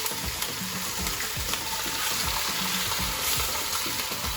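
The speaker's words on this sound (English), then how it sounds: "I'm putting in probably about a tablespoon of oil, and all we're gonna do is pork. And I like to get it browned on all sides." Pork sizzles and browns in about a tablespoon of oil in a Dutch oven for carnitas, a close, steady crackling hiss with soft spattering pops throughout and no talk.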